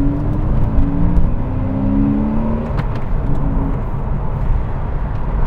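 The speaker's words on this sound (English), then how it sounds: "this car with its flat six engine is not a normal Boxster" Porsche Boxster S with a flat-six engine driving in the rain, a steady, fairly loud engine drone with rumbling road noise throughout and no talking.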